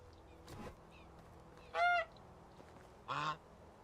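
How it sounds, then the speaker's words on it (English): Geese in the medieval village-building game Medieval Dynasty give three separate honks, a faint short one followed by two loud, nasal, harmonic calls, each under half a second long, over a quiet ambient bed. "So let's start with the geese."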